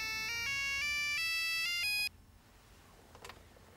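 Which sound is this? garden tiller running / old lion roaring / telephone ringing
telephone ringing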